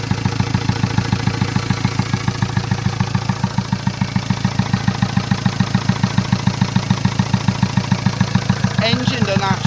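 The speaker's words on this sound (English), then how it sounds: "Engine doesn't actually sound too bad." A Mitsubishi Outlander diesel engine idles steadily with a regular, rapid knocking pulse, loud and close, continuing throughout.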